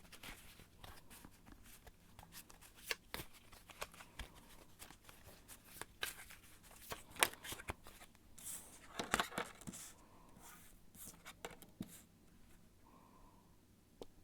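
Tarot cards are shuffled close up in quiet bursts of soft riffling and slapping, with scattered handling clicks and no talk.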